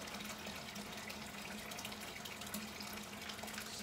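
Liquid drains steadily from a homebrew beer kettle while all-grain brewing a pale ale, a continuous splashing, trickling flow at close range, faint and even throughout with no talk.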